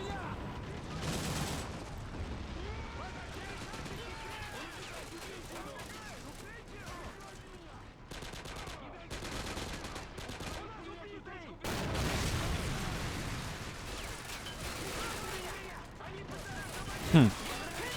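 Continuous battlefield din from a Call of Duty: World War 3 mod line-defense battle with tanks and armored vehicles: steady rattling gunfire and distant artillery booms, with a sharper swell partway through and a brief whooshing sound near the end.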